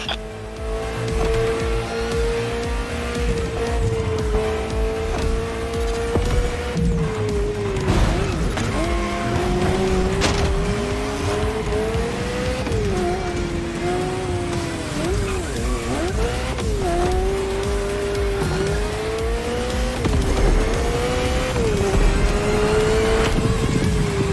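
A Ferrari F40 in the racing video game The Crew Motorfest revs hard, its engine note climbing and dropping through gear changes, with tire squeal and mechanical noise in a loud, continuous stretch.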